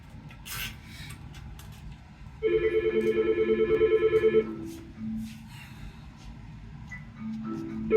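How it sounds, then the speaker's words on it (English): A phone rings in repeated electronic bursts for about two seconds, loud and close, then stops, with quiet room noise around it. "Phone ringing non-stop."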